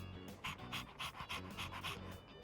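A dog in the Persona 3 Reload video game panting close and quick, a regular series of about eight breathy huffs in steady rhythm, quiet and alone.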